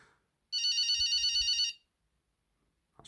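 Nokia 2010 (NHE-3DN) GSM mobile phone from 1994 playing its first ringtone: a bright, electronic trilling tone lasting about a second, loud and close, with silence around it.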